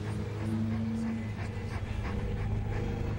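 A dog in a TV drama scene pants rapidly and rhythmically, close and fairly loud, over a low background hum, with no voices.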